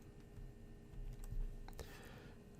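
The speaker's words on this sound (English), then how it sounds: "Press Ctrl-Alt and the F1 key on your keyboard." Keys pressed together on a computer keyboard for a Ctrl-Alt-F1 shortcut, giving a few faint, close clicks over a low steady hum.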